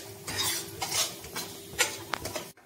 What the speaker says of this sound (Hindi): हम ये मूंग दाल जो हमने पीसी थी फिर से घी में डाल के अच्छे से भून लेते हैं।